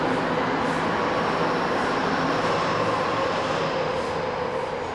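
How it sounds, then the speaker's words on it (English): Subway trains of the Tokyo Tozai Line rumble directly underneath an underground passage, a steady, fairly loud roar with a faint hiss on top, alone with no voices. "I can hear the sound of the trains running directly underneath"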